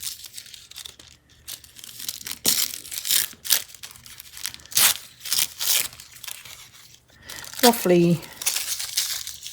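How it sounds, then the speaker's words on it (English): Tim Holtz collage paper being torn and pulled away as excess is removed while decoupaging a tag, giving several short crinkly rips scattered through the clip, with a person talking over them. "pulling off the excess, and then I'm going to put some decoupage underneath it"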